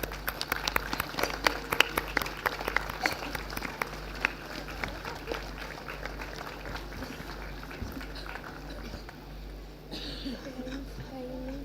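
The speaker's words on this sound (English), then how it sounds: "extend a hearty welcome by way of standing ovation and a thunderous" An audience rises for a standing ovation at a school event hall, with dense, fairly distant clapping pattering steadily over a low hum before gradually thinning out.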